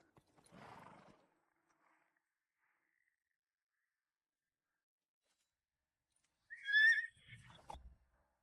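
A horse in a forest setting whinnies loudly near the end, followed by a few low thuds that may be hooves, with a brief rustle at the start and long stretches of near silence between.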